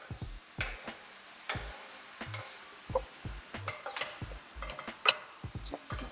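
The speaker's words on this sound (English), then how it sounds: "Stir it around a little bit." A utensil stirring tomatoes into curry gravy in a pot, with soft, irregular scrapes and taps against the pot and a faint sizzle underneath.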